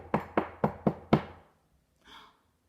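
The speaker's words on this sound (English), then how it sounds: "It was a knock at the door again." Five sharp knocks on a wooden door in an even, quick rhythm, close and distinct, followed by a brief faint rustle after a pause.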